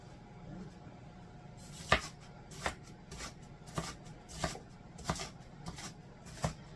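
A knife dicing food on a cutting board, heard as about eight faint, crisp chops at an even, unhurried rhythm over quiet room tone.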